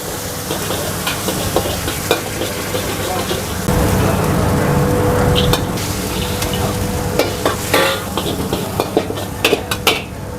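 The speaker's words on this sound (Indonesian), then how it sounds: "Tumis toge ya, mudah banget bikinnya." Bean sprouts stir-fried in a hot wok in a busy food stall kitchen on a Saturday night, a steady sizzle and rustle with scraping and clinking from the pan, and voices in the background.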